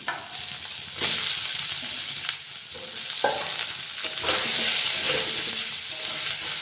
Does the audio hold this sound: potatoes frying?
yes